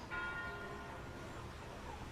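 Church bells ring faintly in the distance, heard from a hidden annex in wartime Amsterdam, a soft tonal chime at the start fading into a quiet background hum.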